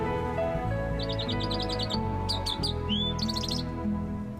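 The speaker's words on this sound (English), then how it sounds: "Those don't even sound like real birds." Synthetic-sounding recorded bird chirps in quick repeated bursts, bright and regular, playing over a steady musical bed with low tones underneath in a radio sports show intro.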